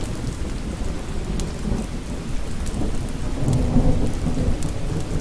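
Steady rain falls with deep thunder rumbling through, the rumble swelling louder toward the end; no voices.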